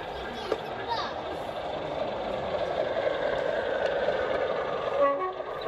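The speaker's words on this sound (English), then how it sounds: "The last of the Class 50s to hold on to the BR large logo blue, 50046 Ajax, arrives at the depot." A model railway Class 50 locomotive, 50046 in BR large-logo blue, rolls into the depot at a model railway show, a low steady rumble with a faint toot, and people talk in the background.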